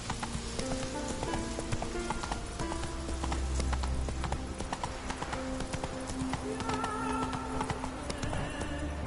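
Roach the horse in The Witcher 3 game, hooves clip-clopping steadily under a continuous bed of in-game music and ambience, fairly close and moderately loud, no talking.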